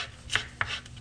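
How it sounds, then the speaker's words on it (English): Two crisp knife strokes slice through cored bell peppers on a cutting board, each a sharp close thump-and-crunch roughly a quarter second apart, with quiet room tone between. "Now that I've got them all cored, I'm going to cut them all down the middle"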